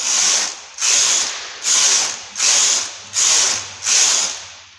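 Knitting machine carriage cranked back and forth across its needles to knit rows of a heart, six evenly spaced whooshing rasps with a steady rhythm, loud and close, with no voices.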